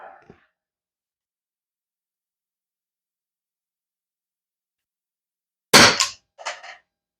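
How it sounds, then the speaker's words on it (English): An HDP 50 pistol powered by HPA fires once with a sharp loud crack followed by a shorter echoing clatter, with a brief faint noise at the start and silence in between. "First shot."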